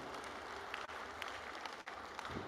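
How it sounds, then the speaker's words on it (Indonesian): Continuous crowd applause at a Makassar city government coordination meeting, dense hand-clapping holding steady for a couple of seconds with brief dips. "tepuk tangan ya"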